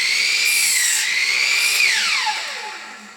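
A power tool cuts through wooden studs for a 12x20 shed build, its motor whining loudly and steadily, then winding down as the blade finishes the cut and spins to a stop.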